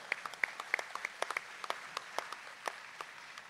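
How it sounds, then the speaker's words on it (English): A small crowd at a state fair livestock sale of champions claps in brief, uneven applause that thins out over a few seconds. "Let's give them a nice round hand."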